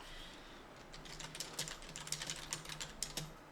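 Fast key presses on a computer keyboard during spreadsheet work. The rapid, fairly quiet clicks come in an irregular run that picks up after the first second.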